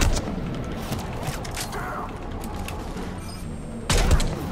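Gunfire and booming blasts in Mass Effect 3 during the Tuchanka bomb mission, a dense, continuous fusillade of shots and impacts close up, with a louder burst near the end.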